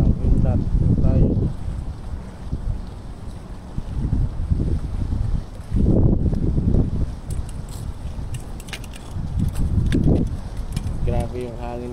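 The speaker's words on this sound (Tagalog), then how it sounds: "Grabe yung hangin" Strong, gusty wind roars across the microphone outdoors at a tenkara fishing spot, surging in heavy low rushes and easing between gusts, loud and steady for the whole stretch.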